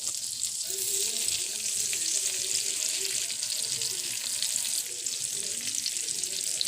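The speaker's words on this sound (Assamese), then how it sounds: "এইখিনি মই এতিয়া হাফ ফ্ৰাই কৰি লৈছোঁ" Paneer pieces half-frying in butter and oil on a flat tawa give a steady, close hiss of sizzling that runs unbroken throughout, with faint clinks beneath.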